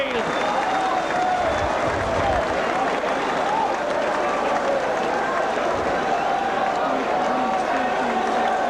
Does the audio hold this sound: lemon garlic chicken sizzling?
no